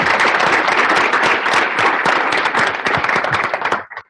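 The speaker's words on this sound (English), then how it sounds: "let's give them a round of applause for doing all that" Conference audience applauding panel participants, dense and loud clapping from many hands close by, sustained for several seconds before tapering off and stopping abruptly.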